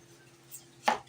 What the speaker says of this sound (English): Slice onions. Cut onions into rings.